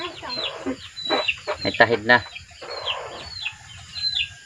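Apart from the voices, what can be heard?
red junglefowl clucking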